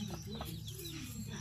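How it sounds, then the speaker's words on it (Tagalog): A chicken clucks in short, agitated bursts over a steady low hum, somewhat distant and fairly quiet, at a farm in the Philippines. "Hala, nasuko na ang manok."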